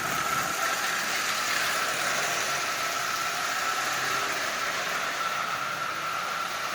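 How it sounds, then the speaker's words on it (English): Marx 999 toy train with a new motor built from rusty junk parts running on a layout, a steady close whirring drone with constant mechanical hum and no pauses or talking. "Anyway, I just wanted to do a quick video on this new motor."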